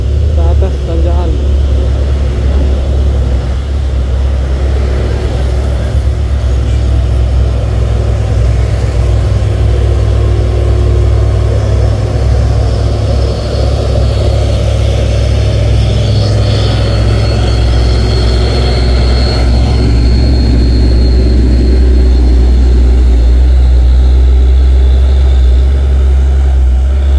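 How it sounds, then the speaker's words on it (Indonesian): A diesel coal truck labours up a steep hill at Bukit Kodok, a loud, steady low engine drone that holds throughout while someone talks over it. "truk kol diesel dan naik ke atas tanjakan"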